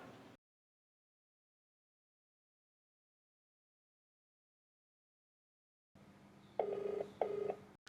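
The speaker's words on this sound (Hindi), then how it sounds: "दीपू को फोन करता हूँ यार।" After a long silence, a phone ringtone sounds nearby in two short repeated bursts, with a low background hum beneath it.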